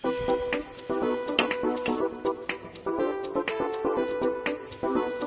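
A lid is set onto a cooking pot of fish and sweet potato leaf soup, bright metallic clinks and clanks ringing out in a steady series of close, loud knocks over a busy kitchen background.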